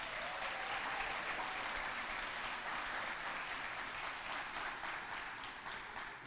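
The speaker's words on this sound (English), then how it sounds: "So a round of applause for our winners." An audience at a school district spelling bee applauds the winners, a steady, dense wash of clapping that holds evenly throughout and eases slightly near the end, with no voices over it.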